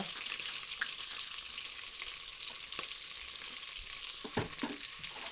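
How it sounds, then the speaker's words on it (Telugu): Green chilies and onions frying in a little hot oil for a village-style pappu charu, a steady close sizzle with occasional stirring clinks and scrapes near the end, no talk. "నూనె వేడెక్కాక అందులోకి పచ్చిమిర్చి, ఉల్లిగడ్డ,"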